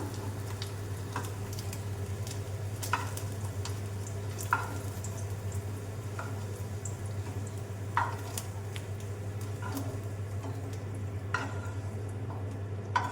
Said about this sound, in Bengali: আলুগুলো ভাজা হয়ে গেছে, একে একে তুলে নিলাম।